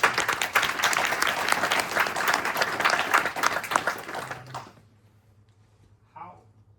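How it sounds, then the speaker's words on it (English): Applause from a crowd for several seconds, dense clapping that stops suddenly, then a brief murmur in the quiet. "Give yourself a round of applause."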